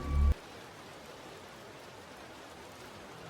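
Steady rain falls as an even, dense hiss of drops on surfaces, continuous and unchanging for several seconds after a short louder opening sound, with no voices.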